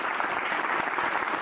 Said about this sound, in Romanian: Felicitări și aplauze pentru ei.